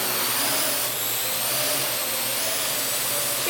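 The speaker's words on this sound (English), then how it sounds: "we are gonna go fly the drone" A Parrot AR Drone 2.0 quadcopter flies close by, its rotors giving a steady, loud whirring buzz that holds constant for the whole stretch with no talking.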